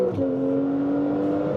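Tuned Porsche 991.2 Carrera making around 700 horsepower pulls hard in second gear from about 4,000 rpm, a loud, rising engine note heard up close from inside the car.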